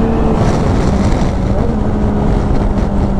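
A constant engine drone from a moving Yamaha Tracer 900 GT 2023 motorcycle with a remapped engine, heard up close, steady and loud, with heavy wind rushing over the microphone.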